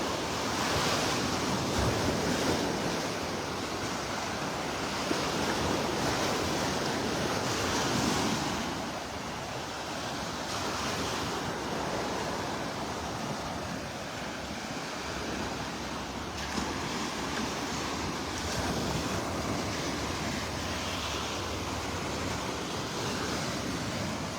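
Ocean surf washes onto a beach in North Naples, Florida, a continuous broad roar of waves with wind buffeting the microphone and no talk.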